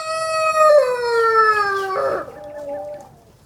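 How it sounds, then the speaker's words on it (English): A rooster crows nearby, one long drawn-out call that falls in pitch and trails off, loud and clear against a quiet background. "Of course, the rooster's got to chime in."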